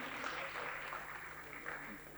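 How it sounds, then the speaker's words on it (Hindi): A packed audience at a freelancing panel event claps for a few seconds, a soft, fairly distant patter of applause that fades slightly at the end. "आप सबके लिए तालियां होनी चाहिए"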